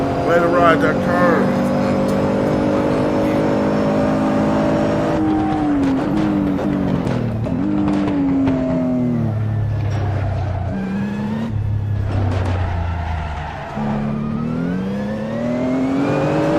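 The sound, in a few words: race car engine revving in video game Assetto Corsa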